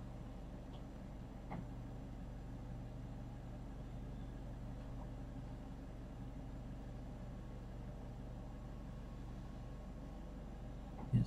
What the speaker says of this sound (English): There's a very noisy truck outside, if you're wondering what that strange vibrating noise is.